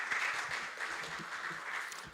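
Audience applause for a band at a Sunday service, a steady wash of many hands clapping that carries evenly through the short stretch with no voices over it.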